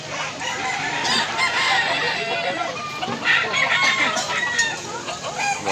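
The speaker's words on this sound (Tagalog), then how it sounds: "Nindot manok." White Kelso gamecocks at a rooster market in Mantalungon, Cebu crow and cluck nearby, with several overlapping calls and people talking in the background.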